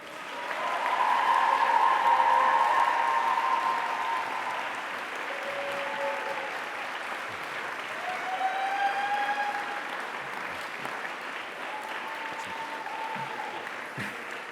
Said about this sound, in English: give them a really big round of applause